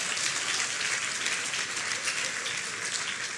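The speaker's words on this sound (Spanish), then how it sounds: "Dale un aplauso al que vive y reina." A church congregation breaks into applause during a sermon, a dense, hissing patter of many hands clapping at even strength, continuous and somewhat distant, with no voice over it.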